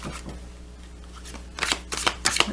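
Nature Spirit oracle cards are shuffled by hand, a soft riffling that grows into several louder, quick bursts of card flutter toward the end, with no talking.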